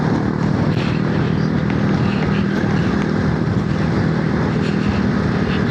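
Voge motorcycle fitted with a slightly detuned F900 engine, heard on a smooth ride as a steady, continuous low drone mixed with wind rush, constant in level throughout.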